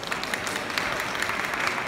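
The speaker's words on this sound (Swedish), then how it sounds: "Jag tycker faktiskt det är värt en applåd." An audience at a social workers' conference in Sweden breaking into applause, dense steady clapping from many people filling the hall.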